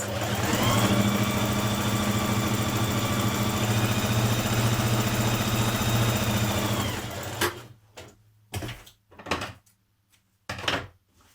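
A sewing machine stitches the centre back seam of a New Look 6567 dress with a steady, close, whirring motor drone for about seven seconds, then stops and is followed by a few short bursts of handling and fabric noise.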